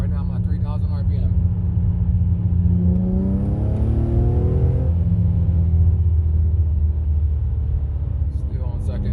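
Infiniti G35 fitted with ISR test pipes pulls hard in second gear, its engine rising in a loud, steady droning rumble that climbs in pitch over several seconds and stays close throughout.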